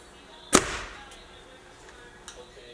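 A single sharp arrow release from a Mathews VXR compound bow at 70 pounds and 30-inch draw, shot through a chronograph, gives one loud crack with a short decaying hum, then a faint distant thud follows.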